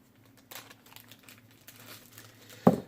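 A small plastic bag crinkles softly during an unboxing, a few faint crackles then one sharper, louder rustle near the end.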